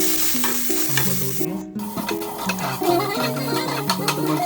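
Chopped onions sizzle in hot frying oil in a home kitchen, crackling steadily at close range while a utensil stirs them, with a brief dip in the middle.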